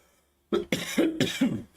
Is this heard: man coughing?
yes